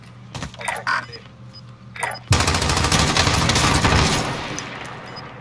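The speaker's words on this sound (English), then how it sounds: "Big loud ass gun." Loud, rapid automatic gunfire from an M4 assault rifle in a shooter video game erupts into a sustained volley after a few sharper, scattered shots, close and dominant.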